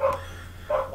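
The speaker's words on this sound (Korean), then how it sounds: "강아지가 이렇게 짖냐?" A dog barks twice in one second, two clear, fairly close barks heard over a steady low background hum, with no talking.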